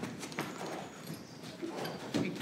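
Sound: horse moving and slowing down

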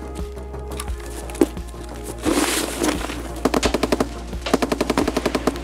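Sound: gunfire in Escape from Tarkov video game

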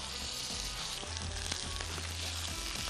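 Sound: steak sizzling in a hot pan

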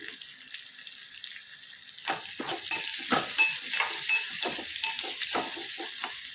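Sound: onions frying with ginger garlic paste and turmeric

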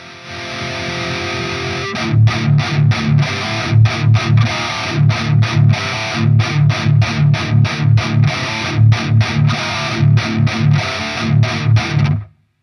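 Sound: electric guitar through tube amp with master volume raised

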